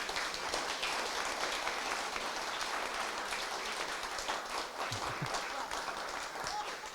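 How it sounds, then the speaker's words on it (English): A live audience at a health tech panel event applauds the panelists with steady, continuous clapping that sounds soft and somewhat distant, while murmured voices sit underneath. "A quick round of applause for our panelists."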